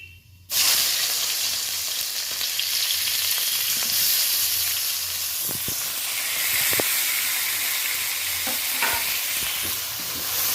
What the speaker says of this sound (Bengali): ছোট চামচের 1 চামচ আমি কালো জিরে ফোড়ন দিয়ে দিলাম।